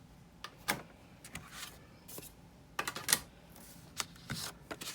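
An envelope is pulled out of a card-making machine in a few short, scattered rasping and clicking bursts, quiet and close, with no talking.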